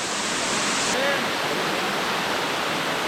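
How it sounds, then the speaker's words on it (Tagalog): A waterfall on a trail in Calbayog rushes in a constant, loud, full-band roar of falling water, close and unbroken throughout with no other sounds standing out. "Talagang napakaraming waterfalls dito sa Calbayog."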